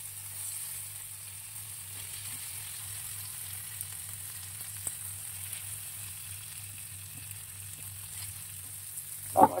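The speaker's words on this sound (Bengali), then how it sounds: "এটা ভাজা হোক" Slices of pointed gourd (potol) fry in oil in a covered pan over a low gas flame, giving a quiet, steady sizzle throughout with a brief clatter right at the end.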